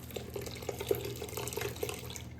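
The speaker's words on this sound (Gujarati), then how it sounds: "ફરી થોડું પાણી એડ કરીશું" Water is poured onto freshly ground dal in a blender jar, giving a close, uneven trickle with small splashes and drips throughout.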